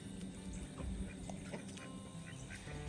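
Recently fed ducks quack faintly amid a busy outdoor background in a flooded garden, with scattered calls over a steady low rumble.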